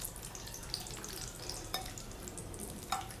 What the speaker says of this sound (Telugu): ఫస్ట్ కాజు అంతా కూడా సిమ్లో పెట్టుకొని ఫ్రై చేసుకోవాలండి.